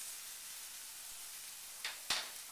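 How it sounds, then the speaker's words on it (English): Vegetarian sausage and squash sizzle in a frying pan, a steady soft hiss near the microphone with a couple of brief louder spits toward the end. "let you see it sizzling, add the sausage"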